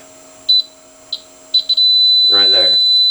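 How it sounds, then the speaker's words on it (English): An Anycubic Mega 3D printer beeps in short, clear tones during bed leveling, breaking off and restarting, then settles into one solid continuous beep while a person speaks over it. "get it right when the machine first starts beeping. A solid beep like so."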